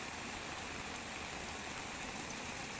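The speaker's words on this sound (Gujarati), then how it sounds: "આજે ધીમી ધારે વરસાદ વિજયનગરની આસપાસ જોવામાં આવી રહ્યો છે." Light, steady rain falling around Vijaynagar in Sabarkantha, Gujarat, a soft continuous outdoor patter with no voices.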